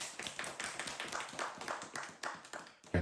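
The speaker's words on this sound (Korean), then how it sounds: "그럼 지금부터 명사님을 큰 박수로 맞이해 보도록 하겠습니다" Audience at a Korean personal-storytelling lecture clapping to welcome the speaker: dense, steady hand claps from a fairly close crowd, continuous and alone for a few seconds.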